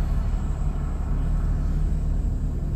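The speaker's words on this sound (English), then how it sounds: "This is a long line of traffic." Steady low rumble of idling vehicles queued in a long line of road traffic, a continuous engine drone with some wind noise over it and no distinct passes.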